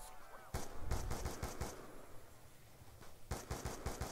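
Rapid bursts of gunfire in Call of Duty: Black Ops 2 Zombies: a quick cluster of shots, a short lull, then another volley of sharp, close cracks.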